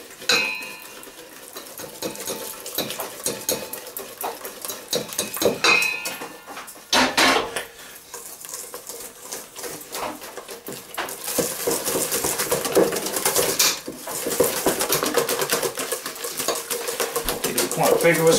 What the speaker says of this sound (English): Whisk the liquid stuff together